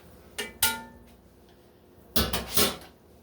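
A spoon clinks against a pot-roast pot and serving dishes as liquid is ladled out, sharp metallic clicks in two short clusters.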